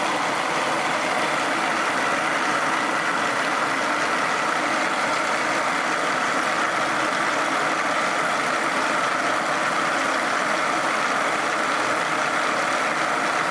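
A Searl effect generator demo rotor driven by electromagnets spins steadily at about 150 to 180 RPM, giving a loud, constant whirring drone with broad hiss and no voices.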